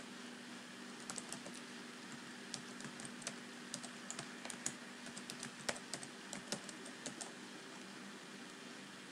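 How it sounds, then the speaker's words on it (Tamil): Light clicks of typing on a computer keyboard, quick irregular taps in short runs over a faint steady hum. "கன்ஃபார்ம் ஐடியில் போயிட்டு நீங்கள் டைப் பண்ணணும்."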